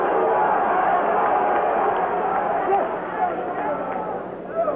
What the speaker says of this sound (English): As the crowd chants for its hero